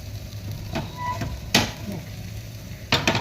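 A dhirde, a mixed-flour pancake, cooks on a pan over a low flame, a gentle sizzle broken by a few sharp scraping taps as a spatula presses it flat.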